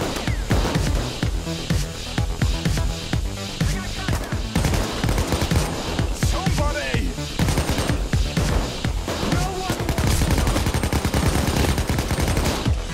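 Sustained bursts of AK rifle gunfire in the video game Payday 2, rapid automatic shots loud and close, firing nearly continuously with brief gaps throughout.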